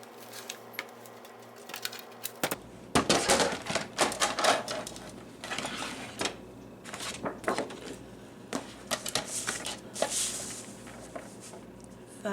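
Paper trimmed to 5 1/4 by 8 inches for a travel folio, with sharp irregular cuts and clacks from a paper trimmer or blade close by after a quiet start, alone without talk.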